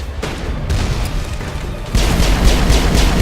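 Gunfire in the video game Mass Effect, a rolling series of heavy shots and booms that jumps louder partway through, dense and close.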